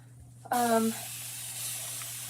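A water spray bottle gives one sharp spritz, a quick hiss of mist, followed by a lingering soft hiss over faint background hum.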